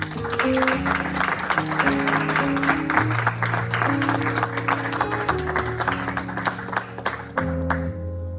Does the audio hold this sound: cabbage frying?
no